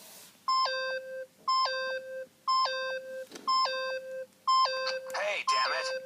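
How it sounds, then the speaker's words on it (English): Beeping in the Danganronpa video game: five identical stepped electronic tone sequences repeat about once a second, loud and clear, with a burst of game voice or noise under the last one. "Stop that goddamn beeping and say something!"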